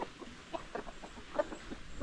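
Free-range chickens and roosters cluck in short, scattered bursts from a nearby flock, with several soft calls overlapping a low outdoor background across the brief stretch.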